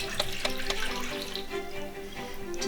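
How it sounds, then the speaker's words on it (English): Warm water pours into a bowl to start a sourdough bread dough in a home kitchen, a steady splashing trickle with a few sharper drips, close and continuous. "I'm going to go ahead and put some warm water into the bowl."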